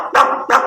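A man imitates a mother dog barking as she runs toward her injured puppy, giving two loud, close, woofing barks in quick succession with a brief gap between them.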